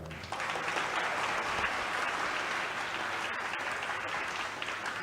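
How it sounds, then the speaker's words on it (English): Audience applause after a devotional talk on a Bhagavatam verse, a steady dense clapping from a group that starts abruptly and holds at an even level throughout, with no voices over it. "Let's clap for him"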